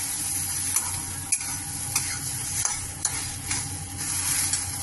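A mash of water lily stems is stir-fried in a pan, giving a steady close sizzle broken by regular scrapes and taps of a spatula.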